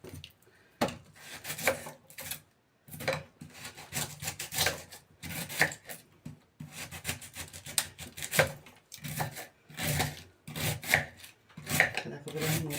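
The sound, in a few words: cutting cabbage by hand, not finely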